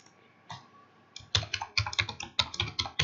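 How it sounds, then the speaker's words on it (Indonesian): Typing an email address into a web form on a computer keyboard: a few scattered keystrokes, then a quick, steady run of close, crisp clicks. "saya akan ketikkan email saya"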